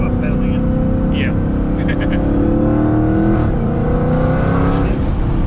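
Engine of a Dodge Hellcat accelerating under load, a steady loud drone with shifting harmonics as the transmission moves through gears, running continuously beneath people talking inside the car.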